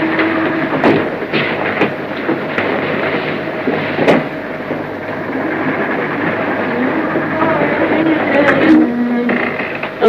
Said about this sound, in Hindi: रेलगाड़ी चली जा रही है